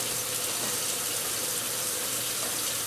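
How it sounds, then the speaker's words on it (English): A tap runs steadily into a sink during handwashing, a constant close hiss of flowing water with no talking. "keep the water running."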